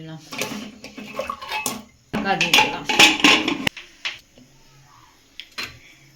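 A metal pot clanks onto a stove with soaked peas and potatoes sloshing inside, giving several sharp clinks and scrapes with water swirling in a home kitchen, then quieter knocks.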